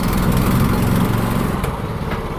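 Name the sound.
engine of a manual tracked dumper running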